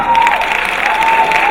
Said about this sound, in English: Clap if you think he's hot.